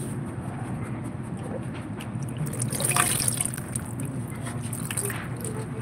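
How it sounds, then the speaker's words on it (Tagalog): Cold water running steadily from a tap outdoors, a continuous splashing trickle with a brief swell midway, while a dog moves nearby and a voice talks faintly. "Lamig yan, tubig."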